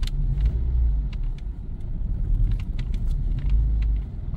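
A Mazda 3 engine idles roughly at low RPM, a steady close rumble with an uneven low throb and a few light clicks above it, heard alone with no talk.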